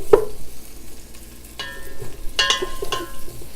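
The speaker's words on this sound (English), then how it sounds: "So I'm going to add in my garlic. My onion. And I'm going to give this a nice stir." Onion and garlic frying in a pan while being stirred, with soft scraping strokes and occasional clinks over a low steady sizzle.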